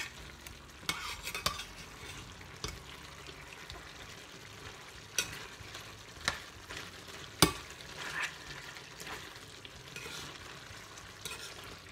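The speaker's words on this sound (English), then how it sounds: "And I put the lid on and let it boil." Pork adobo simmering in a lidded pot, a faint, low bubbling hiss broken by a few light clicks and taps.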